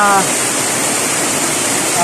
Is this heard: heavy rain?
yes